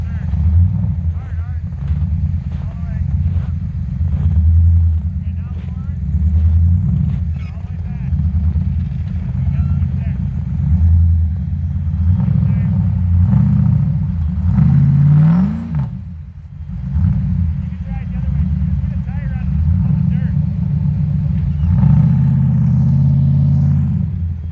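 V8-swapped Ford Explorer on 1-ton axles revving hard as it struggles to climb an obstacle while snow wheeling, a loud, continuous close engine roar with surges and a brief dip midway, with voices talking over it.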